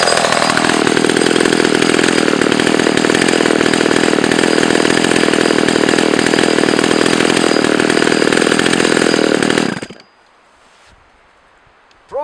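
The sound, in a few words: Pioneer Holliday II 970 chainsaw engine running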